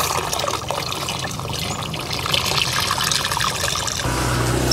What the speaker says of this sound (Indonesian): kemudian tinggal dimasukkan ke dalam 1 drum ini